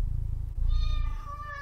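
Black cat in a quiet room near a fire gives a short meow-like purr call, close and clear, with low rumbling underneath.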